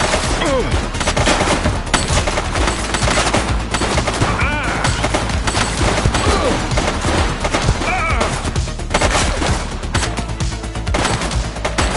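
Heavy gunfire from the police video game The Precinct, with rapid overlapping shots and automatic bursts crackling continuously and loudly throughout, along with some faint voices in the mix.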